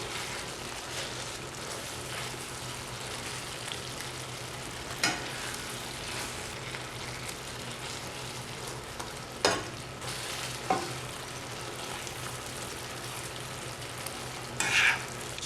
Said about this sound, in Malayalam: ഇനി ഫ്രൈ ചെയ്ത് വെച്ചിരിക്കുന്ന മീൻ കഷ്ണങ്ങൾ ചേർത്ത് കൊടുക്കാം.